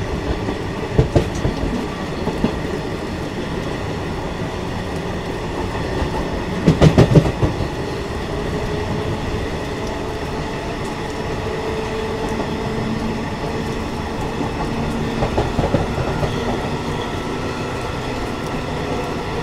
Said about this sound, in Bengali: আর ট্রেন কিন্তু ছাড়ার পর থেকে বেশ ভালো পিক আপে আছে।